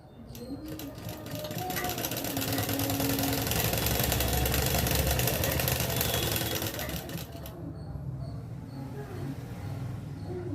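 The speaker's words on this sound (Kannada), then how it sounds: "ಎರಡು ಫೋಲ್ಡಿಂಗಲ್ಲಿ ಈ ಥರ ಮಡಚಿ ಮೇಲ್ಗಡೆಯಿಂದ ಸ್ಟಿಚ್ ಹಾಕ್ತಾಯಿದ್ದೀನಿ" A domestic sewing machine runs steadily up close for several seconds, stitching a double-folded half-inch hem at the bottom of a sleeve. The motor hum stops abruptly near the end.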